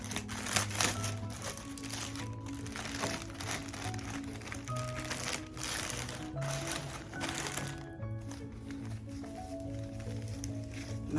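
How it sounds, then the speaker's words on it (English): Plastic wrap crinkles and rustles as it is pulled off a new Coach handbag, in soft, close, continuous crackles at a low level. "Let's go ahead and take the plastic off."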